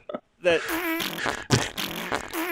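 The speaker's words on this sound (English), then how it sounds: "all the farts could be heard well" Fart sound effect heard during a podcast call, a short burst followed by a longer buzzy, sputtering blast with a few stuttering pops, close and fairly loud.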